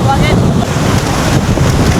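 Strong ocean waves surge at Boracay beach, heard as a loud, continuous low rumble of surf mixed with heavy wind buffeting the microphone, with no voices over it.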